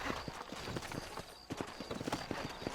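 Horse hooves clip-clop in a quick, steady rhythm in the video game Red Dead Redemption, close and continuous beneath a soft ambient background.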